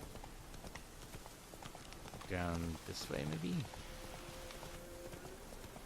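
Roach the horse's hooves clip-clop in a steady, quiet rhythm in the Witcher 3 video game, with patter like rain behind them, while someone briefly speaks over the hoofbeats.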